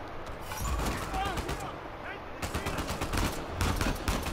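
Gunshots in the Uncharted 4 video game, several sharp close bursts of gunfire in quick succession, with someone speaking over them.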